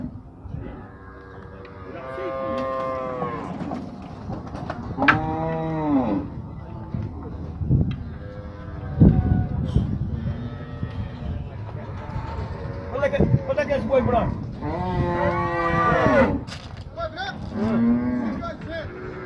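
Cattle low repeatedly, loud and close, at a livestock fair in Tabira, Pernambuco, with several long moos rising over one another amid steady crowd murmur, and people talk throughout.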